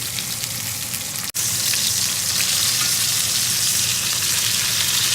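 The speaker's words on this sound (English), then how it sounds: "So I just burned, or the oil just popped on me" Lamb chops fry in a pan of hot oil with a loud, steady sizzle, a brief sharp pop breaking through early before the frying carries on alone.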